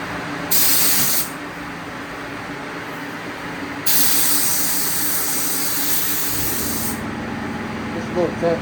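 Bursts of spray-gun hiss as a 1969 Pontiac GTO Judge firewall gets a light tack coat of Starlight Black, two loud blasts of about a second and three seconds over steady shop background noise.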